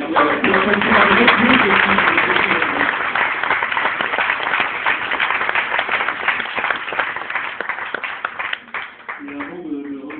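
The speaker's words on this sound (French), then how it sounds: "je pense qu'on peut aussi applaudir Sacha et toute l'équipe" An audience at a Startup Weekend jury finale in Paris breaks into sustained applause, dense and loud, fading slightly toward the end while a voice speaks over it.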